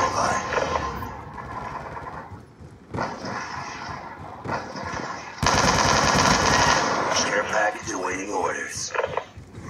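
Rapid machine gun bursts crackle in a Black Ops 2 custom match, several sustained volleys with short gaps between them, loud and dense over game effects, with a player talking at times.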